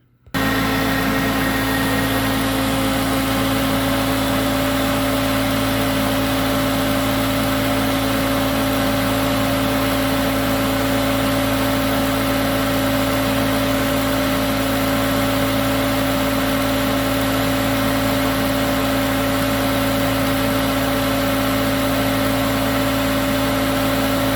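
Hoover Concept One U4205 vacuum cleaner switching on and running steadily, a loud continuous motor drone with a constant whine and no variation throughout.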